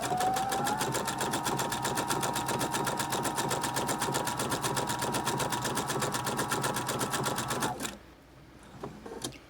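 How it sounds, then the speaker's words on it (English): Sewing machine stitching a picot edge hem on knit fabric with a straight stitch and zigzag jump, a fast, even mechanical chatter running steadily for about eight seconds before stopping abruptly. "as I stitch, it's going to do a straight stitch on the left, and it's going to do this zigzag jump to the right"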